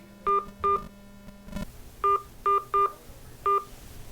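Telephone keypad tones punch in a conference call access code: two quick beeps, a short burst of noise, then four more evenly spaced tones over quiet line hiss.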